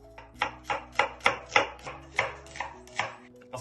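A knife chops onions on a board in a steady run of about a dozen crisp, evenly spaced strokes, close and clear with no voices, prepared for a caramelized onion and beef dish.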